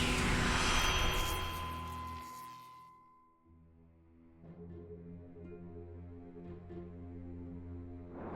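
Turboprop airliner, American Eagle Flight 3379, descending toward Raleigh-Durham International Airport: a loud, steady propeller and engine drone with tonal harmonics that drops briefly partway through, then resumes at a lower, even hum.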